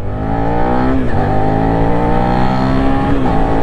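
A loud, close Suzuki SV650 motorcycle engine revs steadily upward, with brief dips in pitch at two gear changes around 8000 rpm before climbing again, a smooth continuous roar with no talking.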